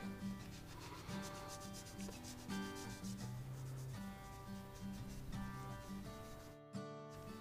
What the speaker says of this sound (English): The instructions say to buff lightly with a rag.